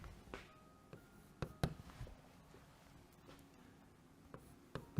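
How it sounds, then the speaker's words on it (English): A teacher writes on a classroom board, producing quiet sparse taps and short scratchy strokes with pauses between them, no voice present. "While I'm writing here, you have to write."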